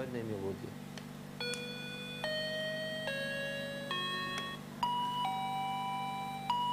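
A cordless doorbell with two call buttons plays its electronic tune, a series of clear sustained chime tones stepping through a short melody over a low steady hum, with a brief click before it starts.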